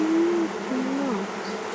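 Honey bees buzzing at an open hive during a queen release, a steady close drone with a few louder wingbeat tones passing near.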